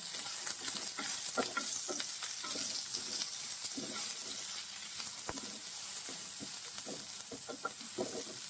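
Ginger, onion and curry leaves sauté in hot oil in a pan, a continuous close crackling sizzle with bursts of spitting and a few scrapes of stirring, steady and moderately quiet with no talking.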